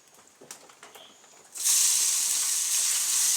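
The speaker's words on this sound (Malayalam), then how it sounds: "ഞാൻ ഇച്ചിരി വെളിച്ചെണ്ണ ഒഴിച്ചു കൊടുത്തിട്ട് ഇതൊന്ന് വഴറ്റിയെടുക്കുവാണ്" Chicken sautéing in coconut oil in a pan starts with a few faint clinks, then breaks into a loud, close, continuous sizzle as the ingredients hit the hot oil.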